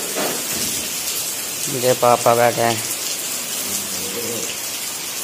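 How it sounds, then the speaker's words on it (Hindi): Heavy rain falls outside a house during flooding, making a steady broadband hiss throughout, with a voice speaking briefly over it. "देखो बाहर बारिश हो रही है"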